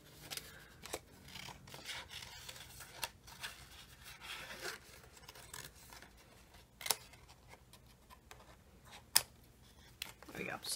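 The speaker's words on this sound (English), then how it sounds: "So we're just going to cut out 2 of those seahorses really quick." Scissors snip out two paper seahorses for a handmade mermaid porthole card, faint close crisp cuts and paper rustling scattered irregularly, with quiet speech alongside.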